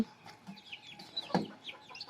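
A mother hen and her forty-day-old chicks cluck and peep close by in a small backyard flock, soft scattered clucks with high chirps in between and one sharper cluck, with no talk.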